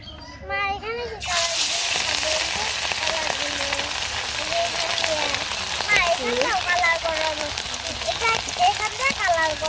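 Hilsa fish hits hot oil in a pan and erupts into a loud, steady sizzle that continues throughout, with a person talking over the frying.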